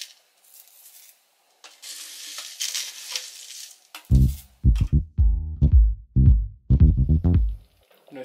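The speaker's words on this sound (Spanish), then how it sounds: "Nuestra salsita ya lleva 4 minutitos hirviendo." Chicken tamale salsa simmers and sizzles in a pan, a steady hiss that fades in and out, while bursts of speech take over in the second half.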